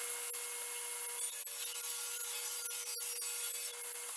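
A hand saw rasps steadily through a 2.5 inch piece of lumber in a woodshop, with continuous close rubbing strokes at an even level and no speech.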